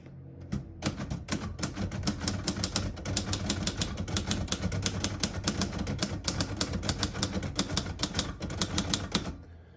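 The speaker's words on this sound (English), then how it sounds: "Very nice typing machine." Rapid clattering keystrokes from a 1955 Royal Quiet De Luxe portable manual typewriter, steady and dense for nearly ten seconds, with small pauses between bursts, close and clear.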